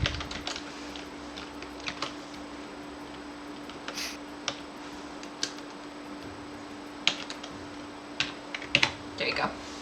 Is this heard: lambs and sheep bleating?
no